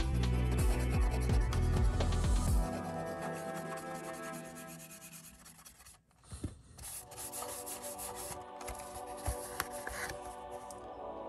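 A Bestine-soaked cotton swab rubs old sticker residue off a cardboard Nintendo game box, making close, soft scratchy rubbing strokes that repeat in short bursts, with no speech.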